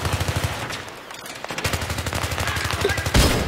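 Rapid automatic gunfire in the Battlefield 3 video game, bursts of evenly spaced loud shots that pause briefly and then resume, with a final heavier blast near the end.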